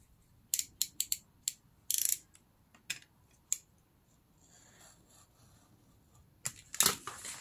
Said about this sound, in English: I'm gonna take a knife and ruler and I'm gonna cut the slot between those two holes.